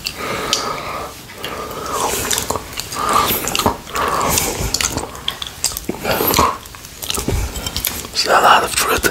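Close ASMR eating and chewing of ripe jackfruit, with wet bites, soft mouth sounds and a few plate or utensil clicks, continuous and intimate throughout, with occasional quiet whispered speech.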